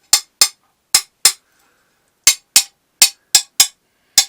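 Sharp glassy taps land one after another along a scored line in a piece of stained glass, about ten crisp clicks in uneven bursts with short silent gaps between, close and clear with no voices.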